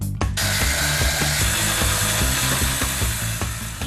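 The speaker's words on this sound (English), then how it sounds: "getting stuck into a marathon of cutting and welding" A power tool cuts metal for a frame in a workshop, a loud, continuous grinding and rasping roar with a pulsing low chatter, close and without talk.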